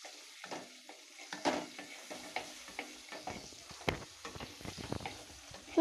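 Chillies frying in a pan for mirchi fry, a soft steady sizzle with scattered stirring clicks and scrapes, fairly quiet and close.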